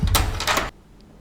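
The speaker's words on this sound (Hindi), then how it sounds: "तभी बाथरूम का दरवाज़ा खुला" A bathroom door swings open in a home, a short burst of wooden knocking and creaking that cuts off abruptly into near silence.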